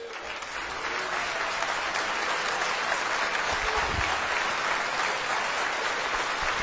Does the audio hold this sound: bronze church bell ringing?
no